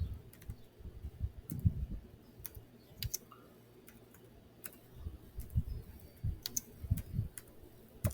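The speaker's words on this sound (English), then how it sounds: "I must be the slowest typer in the whole wide world" Typing on a computer keyboard, heard as slow, irregular clicks and taps spread across the clip, fairly faint with a low background hum and no talking.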